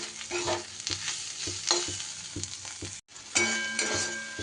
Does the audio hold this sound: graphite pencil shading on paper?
no